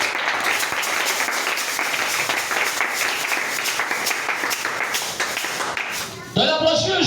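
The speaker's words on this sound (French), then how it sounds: "Acclamez pour le Seigneur Jésus." A church congregation applauding for the Lord Jesus at a revival gathering, dense sustained clapping from many hands lasting several seconds and then breaking off, with a voice rising over it at the end.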